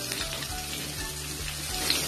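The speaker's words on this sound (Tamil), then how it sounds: "கொடமிளகாய் சீக்கிரம் வதங்கிரும், அதனால லைட்டா வதக்கினா போதும்." Capsicum sautéing in a pan for capsicum chutney gives a steady, close sizzle of frying with soft stirring, and no one speaks.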